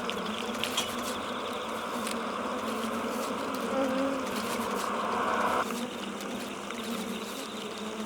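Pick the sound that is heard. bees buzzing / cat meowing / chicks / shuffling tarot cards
bees buzzing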